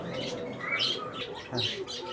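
Pigeons kept for sale call close by in short, repeated chirpy coos and tweets, with faint rustling in the background.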